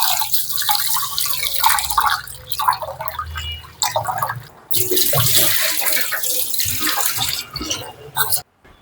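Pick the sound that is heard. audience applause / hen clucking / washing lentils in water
washing lentils in water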